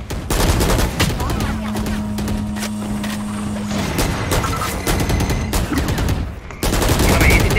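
Rapid gunfire bursts from the video game Valorant during a college tournament match, loud sharp shots in quick repeated volleys with a steady in-game background.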